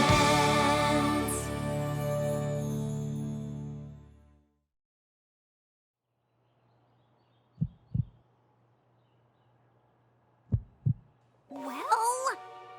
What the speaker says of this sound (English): I suppose his heartbeat could be a teensy bit slower than usual